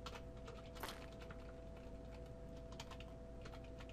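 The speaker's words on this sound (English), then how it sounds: "I need a quieter keyboard." Rapid, continuous clicking of a loud computer keyboard being typed on, close and fairly quiet, with a steady faint hum beneath and no talking.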